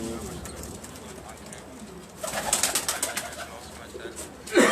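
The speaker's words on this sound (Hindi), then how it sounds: "एक ये कबूतर छोड़ दी" A Teddy pigeon is released and coos, followed by a burst of wing flapping and a sharp flutter at the end, close by under faint background noise, with someone speaking.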